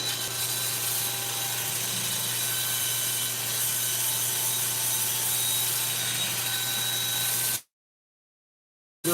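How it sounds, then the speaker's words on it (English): Sandpaper rubs against a cracked wooden bowl spinning on a lathe, a close, steady hiss over the hum of the lathe motor, which cuts off abruptly near the end. "So let me get this sanded up here just a little bit."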